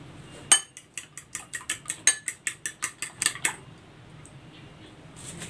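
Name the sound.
stirring flour seasoned with salt and pepper in a bowl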